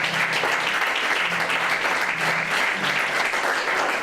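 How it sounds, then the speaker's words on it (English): A library audience gives a warm round of applause at a town library event, dense close clapping sustained evenly for several seconds with no talk over it. "Give them a nice round of applause."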